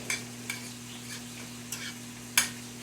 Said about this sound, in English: Kind of break that butter up in places. Let that butter get all over that steak meat.